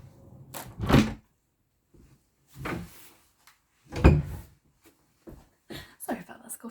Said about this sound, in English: my door just opened because of the wind